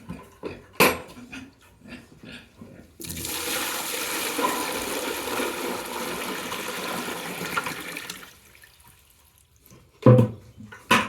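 Water pours steadily for about five seconds into a pig pen's trough or container, a broad splashing rush with short knocks and clatters before and after.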